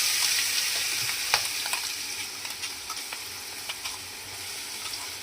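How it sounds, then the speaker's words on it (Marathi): Asafoetida, garlic and green chillies frying in hot oil in a pan, giving a steady bright sizzle with occasional stirring clicks and pops, heard alone and fairly close. "तेलात परतून घेणार आहे"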